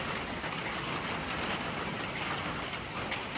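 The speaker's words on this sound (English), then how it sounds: "That rain." Heavy rain pours outside along the Ozark Highlands Trail, a dense, steady hiss of drops drumming on surfaces without a break, fairly loud and enveloping.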